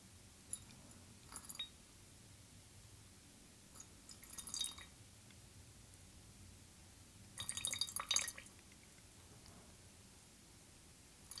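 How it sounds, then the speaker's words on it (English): Japanese tea poured gently from a teapot into a cup, with the last drops coming out: quiet, close trickles and drips in a few short bursts separated by near silence. "we want to pour the tea very gently, as shaking the pot can add to the bitterness of the tea"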